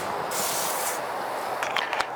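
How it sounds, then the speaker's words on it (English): Cooking oil spray hisses onto the cast iron grill grates of a Kamado Joe Classic in close, short bursts: one longer spray followed by a few quicker puffs. "I'm going to use a little cooking oil on them"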